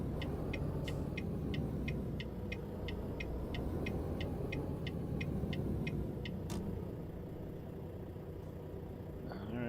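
Low steady engine rumble of a truck driving in American Truck Simulator, with a regular series of ticking clicks, like a turn signal, running through the first part.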